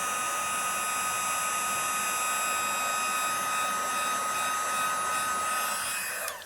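A heat gun blows a steady, close, hair-dryer-like roar while melting embossing powder on a handmade card, continuous and alone until it cuts off at the end.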